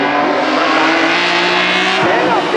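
A Fiat Bolhica race car fitted with a Yamaha engine runs at a hillclimb race, its engine a loud, high, sustained buzz that roars on throughout without a break, close to the listener.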